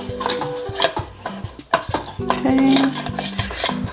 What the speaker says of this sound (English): I'm gonna stir that until it melts.